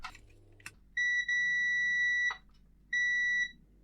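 Two steady electronic beeps from a multimeter continuity test on the on-off switch of a Frogger arcade machine, the first lasting about a second and a half, the second shorter, with a click between them and no talk.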